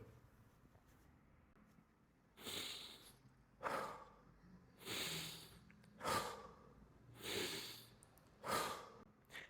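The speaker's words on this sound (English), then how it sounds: "Now, this is what a chest breath looks like." Chest breathing demonstration during a breathwork reset, five or six slow, audible breaths in a close, quiet room, each a soft rushing inhale or exhale coming in a steady rhythm after a silent start.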